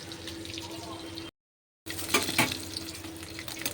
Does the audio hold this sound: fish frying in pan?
yes